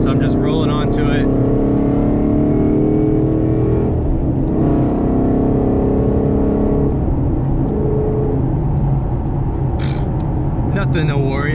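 A car rolls onto a highway on-ramp with a loud, steady engine and road drone close up, tire and wind noise throughout, while a person talks over it.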